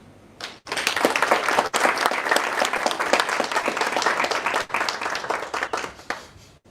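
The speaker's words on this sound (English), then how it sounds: "Hand of applause once again for the" Audience applause at a cybersecurity capture-the-flag competition event, a loud, full burst of many hands clapping that swells quickly, holds strongly, and tapers off near the end.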